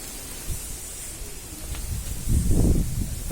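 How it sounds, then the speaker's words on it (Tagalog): Strong wind blows outdoors at a work site among trees, a soft rushing hiss with low buffeting gusts that swell louder toward the end. "It's really windy."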